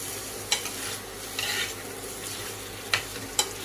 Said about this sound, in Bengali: এবার আমি রসুনটা দিয়ে দেবো।